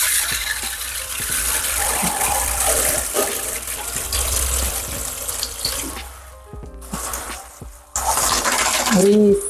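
Water from a tap or shower rinsing a German Spitz during a bath, a steady gushing splash that briefly stops and then resumes, close and loud, with a person talking softly over it.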